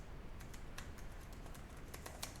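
Quiet, close typing on a computer keyboard, a brisk run of light clicky keystrokes over a low background hum, no voices.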